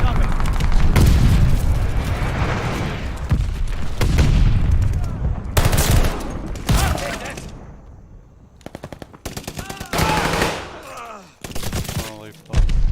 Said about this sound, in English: Friendly glide bomb incoming.